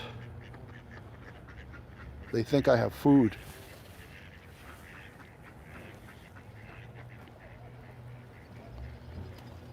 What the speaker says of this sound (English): I hope you guys are enjoying the ducks.